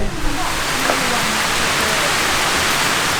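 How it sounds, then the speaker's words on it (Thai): Heavy tropical rain pours down on Koh Samui, a dense, loud, unbroken hiss of water hitting surfaces, close and steady throughout the short stretch. "โอ้มันตกอะไรขนาดนี้วะเนี่ย หาอะไรทำช่วงหลบฝนกันหน่อยครับ"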